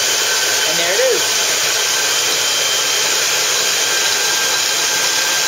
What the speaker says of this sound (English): You have the first reel spinning off right here, and it's going through our relief pulley system